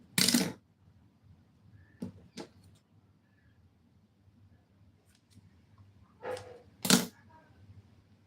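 Scissors snip out bad stitches on abaya fabric in sharp, brief bursts: a crisp cut at the start, two quick clicks near two seconds, then a rustle and another sharp snip near seven seconds, with quiet pauses in between.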